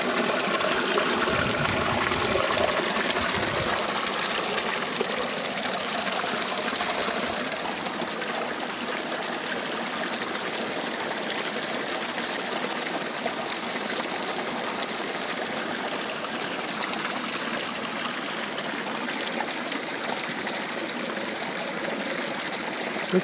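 Stream water flowing steadily outdoors among greenery, a continuous broad rushing and trickling, close and even throughout with no voices.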